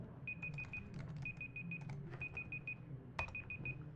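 A phone alarm sounds as short, rapid bursts of high, thin beeps, four or five at a time, repeating in groups over a low background hum in a quiet room.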